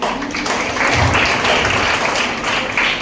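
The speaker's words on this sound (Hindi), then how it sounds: "कुछ नजदीक को सर के लिए जोरदार ताली।" Loud, dense applause from a seminar audience in a hall, many hands clapping steadily and close for a few seconds at an even, strong level.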